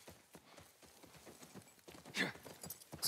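Horse hooves clip-clop in The Last of Us video game, a quick uneven trot of faint taps with a brief snort near the end.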